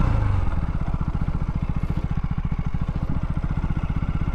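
A KTM Duke 200 motorcycle engine pulls hard toward top speed, a loud, rapid, even thrum that holds steady and close throughout with wind rushing over it.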